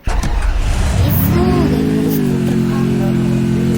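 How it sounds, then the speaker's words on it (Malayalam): A scooter in the Free Fire video game starts up and revs, the engine tone climbing then holding a loud steady drone throughout, close and dominant. "ഇതാണ് നമ്മുടെ സ്കൂട്ടർ"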